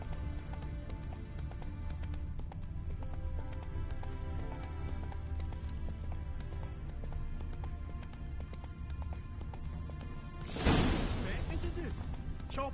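Geralt's horse Roach galloping in the video game Witcher 3, a steady rhythmic drumming of hooves running throughout over background music, with a sudden loud whooshing crash near the end.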